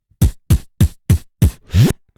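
Six punchy, deep thumps at a steady beat, a voice imitating a kick drum up close, the last one longer and buzzier.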